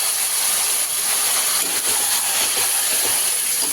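Meat hits hot mustard oil in a kadai, the same pan used earlier for parathas, giving a loud, steady, hissing sizzle that fills the whole stretch with no talking.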